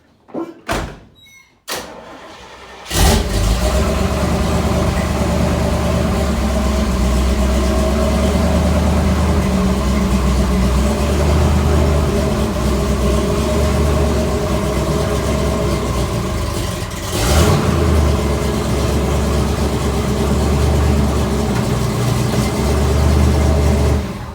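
A Chevy squarebody pickup truck starts after a few door and handling clunks, then settles into a loud, steady low engine idle close by that rumbles on alone, with a brief thump partway through.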